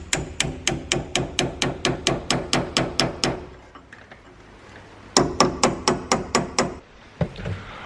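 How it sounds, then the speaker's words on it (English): Hammer blows on a steel punch tightening a seized coilover collar, a fast steady run of about fourteen sharp metallic strikes, a pause, then another quick burst of strikes, close and loud. "we're going to use the exact same method and just punch it tight this way"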